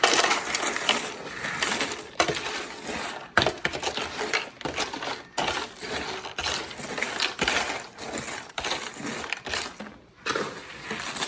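Chex Mix snack pieces rattle and crunch as they are slowly stirred with seasoning in a bowl, producing an irregular, close clatter of dry pieces tumbling over one another.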